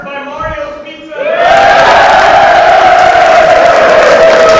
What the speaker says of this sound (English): You can see our audience is very excited.